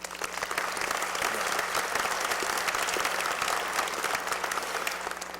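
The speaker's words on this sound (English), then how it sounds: "So please give yourself another round of applause." Graduates at a health sciences university commencement applaud themselves, with a full, sustained round of clapping from a large crowd that stays even and loud throughout.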